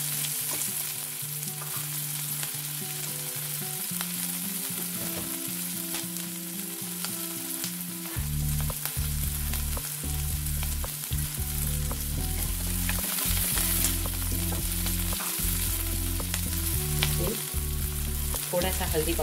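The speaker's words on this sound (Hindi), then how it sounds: "तेल गरम होते ही प्याज डाल दीजिए।" Chopped onion sizzles steadily in hot oil for a Prawn Masala curry, with a constant bright hiss and occasional stirring knocks of a utensil against the pan, growing louder and denser in the second half.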